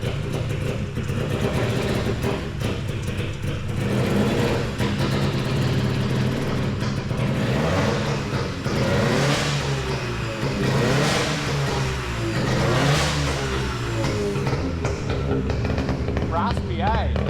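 A freshly rebuilt Daihatsu Fellow engine revs on its first test drive, rising and falling in loud raspy surges up close, with people talking and exclaiming over it.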